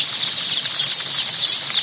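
Chickens on a poultry farm of white Sussex birds and roosters cluck and chatter steadily, a dense, continuous flock sound heard close by with no talk.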